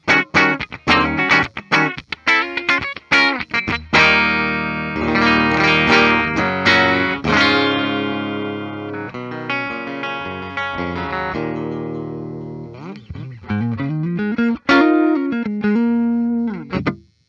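A 2022 Gibson Les Paul through its single-coil neck pickup has a round, warm tone, playing a run of plucked notes and strummed chords, some ringing out, then quick picked lines.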